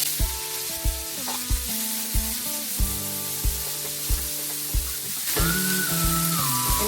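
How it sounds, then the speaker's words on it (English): Onions, carrot, chilies and coriander stir-fry in hot oil, giving a steady close sizzle broken by regular spoon taps against the pan. Background music plays throughout and grows fuller near the end. "In hot oil, stir fry"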